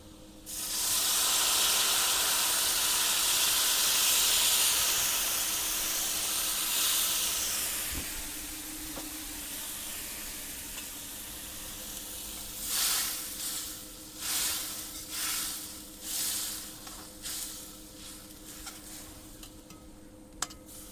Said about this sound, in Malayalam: അരപ്പ് നന്നായി തിളച്ചിട്ടുണ്ട്.